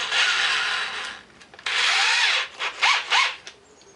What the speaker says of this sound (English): So let's drill this out now.